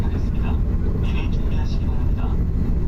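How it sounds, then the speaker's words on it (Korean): Steady low rumble inside a KTX high-speed train as it runs and slows approaching Cheonan-Asan station, with faint voices and chimes scattered over the continuous noise. "열차는 다시 속도를 줄여서 다음 정차역인 천안 아산역에 접근."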